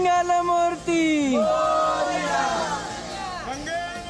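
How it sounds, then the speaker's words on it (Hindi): A crowd chants praises to Lord Ganesha at Ganesh Chaturthi celebrations, with loud, sustained, overlapping voices rising and falling in pitch amid general hubbub. "शहर शहर विघ्नहर्ता की जयकार"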